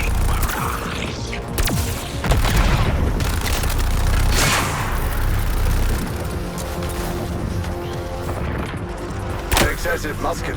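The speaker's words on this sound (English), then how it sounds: "Commencing barrage." A weapon barrage firing in the video game Suicide Squad: Kill the Justice League: dense rapid gunfire and blasts overlapping into a loud, sustained volley with a few sharper bursts near the end.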